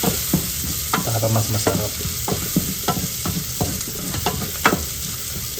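Garlic sautéing in a pan to golden brown, with a steady sizzle and repeated clicks of stirring, while a voice speaks briefly over it.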